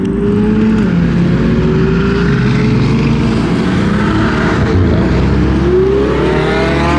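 Loud engines of a convoy of hypercars, including a Ferrari 296, roar past in close succession, their pitch sweeping as the cars go by, a continuous heavy drone throughout.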